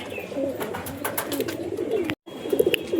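Soft, repeated pigeon coos rise from a netted loft amid light shuffling, broken by a brief moment of dead silence before the cooing resumes.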